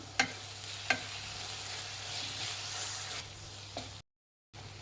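Fried onions with spice sizzle softly in oil for lemon chitranna as a spoon stirs them, with a few sharp scrapes against the pan and a brief silence near the end.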